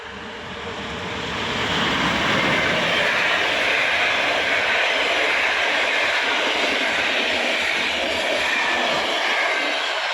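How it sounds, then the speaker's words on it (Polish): A freight train passes a rural level crossing. Its broad, heavy rumble swells in during the first two seconds, then holds loud and steady before thinning slightly at the end. "Leci towarowy."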